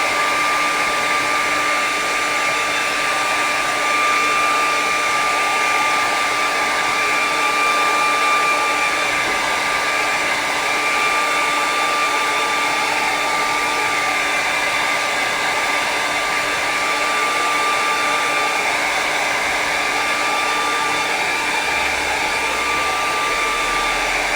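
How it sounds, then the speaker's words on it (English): A blow dryer dries snow-covered craft trees with a loud, steady, continuous whirring roar that does not change the whole way through. "I'll definitely have to hit it with a blow dryer."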